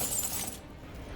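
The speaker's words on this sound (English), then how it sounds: "So, Becky, do you want to show the audience our bucket of glass?" A bucket of broken glass pieces being shaken, giving a bright crunching rattle up close for about half a second before settling into quieter low shuffling, with no talk.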